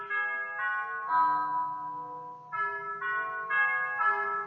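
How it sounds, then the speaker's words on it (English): A class bell plays a short sequence of clear, sustained electronic chime tones, each note stepping to a new pitch with slight pauses between. It rings alone at moderate volume, with no talk over it. "That's not your bell, stay seated."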